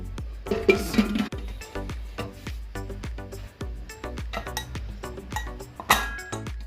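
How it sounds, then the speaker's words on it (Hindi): Metallic clinks and clatters of a pressure cooker lid being handled and fitted, a dense run of sharp ringing taps close up, with no speech. "अब कुकर बंद कर दो।"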